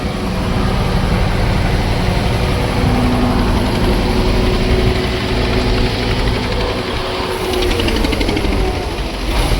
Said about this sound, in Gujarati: આ ક્રેન છે